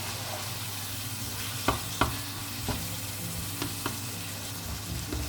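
Meat searing in a hot pan: a steady low sizzle with a few sharp clinks and stirring scrapes, close and fairly quiet, with no talking.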